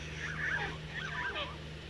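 An Oviraptor in the Carnivores dinosaur hunting game gives a scratchy, honking, chicken-like call, two warbling phrases at moderate distance over a steady low background hum.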